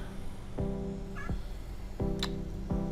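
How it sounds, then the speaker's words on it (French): A cat meows repeatedly indoors, several short complaining calls spaced about a second apart, close and clear over a low background hum, with no talking. "Qu'est-ce qu'il y a le chat?"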